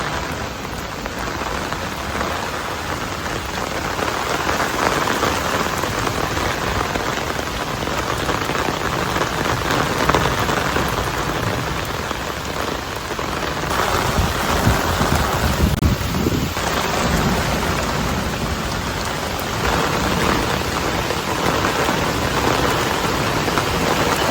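Heavy rain pours steadily onto surfaces during a wet-day downpour, a dense continuous hiss with low thunder rumbles swelling beneath it around the middle and later stretches, no voices present.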